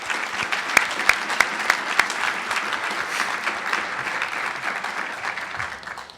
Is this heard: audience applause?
yes